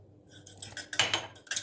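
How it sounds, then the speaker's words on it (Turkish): Quick metallic clinks and scrapes as a utensil stirs an egg in a pot, in short irregular bursts. "Şöyle bir karıştırıyorum."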